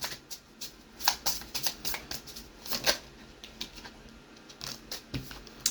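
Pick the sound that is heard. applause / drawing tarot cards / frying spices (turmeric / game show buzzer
drawing tarot cards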